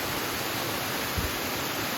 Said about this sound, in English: we haven't seen a nice little waterfall for a while. So here's one.